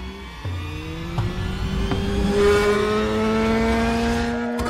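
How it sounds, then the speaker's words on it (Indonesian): A white car's engine revving and accelerating close by, with a rising whine and a tire-squeal edge, loud and continuous without any voices. "tiba-tiba mobil putih menabrak Kang Samuk"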